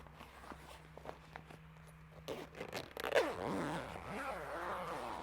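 A zipper on a Patriot Campers X Range PCOR awning is pulled in a few short, soft rasps, followed by rustling fabric and handling noises close by.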